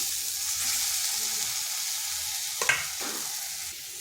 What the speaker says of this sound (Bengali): এটা কষানো হয়ে গেছে, আর দেখুন কড়াই থেকে কিন্তু তেল ছেড়ে যাচ্ছে।